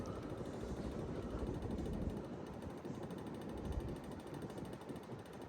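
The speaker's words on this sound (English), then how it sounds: "There's a little bit of rattling on the light kit." A Hunter Original ceiling fan with a light kit runs with a faint, steady mechanical rattle and ticking from the light fixture beneath a low whir, quiet and continuous throughout.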